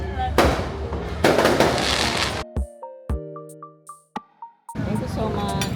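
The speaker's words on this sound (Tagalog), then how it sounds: "May fireworks kami." Fireworks at a beach crackle and boom loudly over a noisy crowd. A few sharp individual bangs stand apart, each followed by a ringing echo, before the crowd's roar returns.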